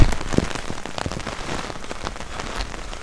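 Heavy rain drums hard on a surface on the coast at Tönning, Schleswig-Holstein, with strong wind. The dense, close, loud patter runs steadily with no voice over it.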